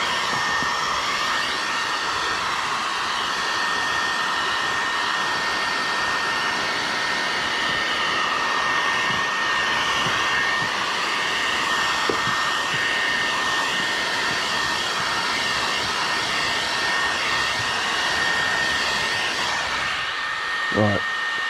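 A heat gun blows a steady, loud whir for a long stretch as it shrinks 5% ceramic window tint film on a 2022 Dodge Ram, with a faint tonal whine and a few small knocks near the end.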